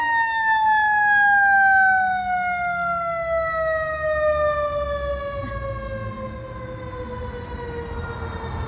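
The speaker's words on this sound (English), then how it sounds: "Oh, a fire truck coming." A fire truck siren wails in long, steady falling tones as the vehicle passes along a street during a bike ride to school, loud at first and slowly fading, with no talk over it.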